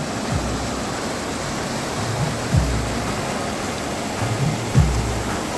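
Lapaz waterfall heard on a mountain trek: a steady, loud broadband rush of falling water fills the scene without a break, with a few low thumps and no voices.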